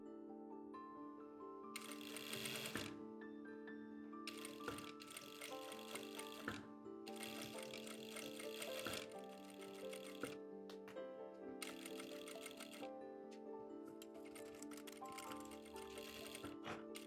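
A sewing machine stitches a corset cup in several bursts of rapid mechanical whirring, each lasting one to three seconds with short pauses between, heard faintly under soft background music.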